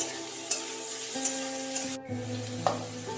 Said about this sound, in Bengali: পেঁয়াজ আমার একটু ভাজা হয়ে যাচ্ছে আর আলুও সাথে একটু নরম হয়ে গেছে